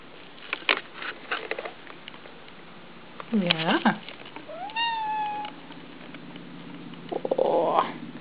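A house cat meows twice in quick succession, bending up and down in pitch, amid light shuffling and background noise.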